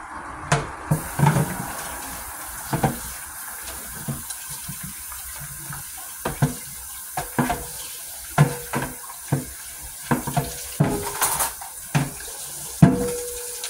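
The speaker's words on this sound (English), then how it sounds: "Wash my cutting board off." Tap water runs into a sink while a cutting board is washed, with a steady background stream and irregular knocks and clunks of the board against the basin, close by.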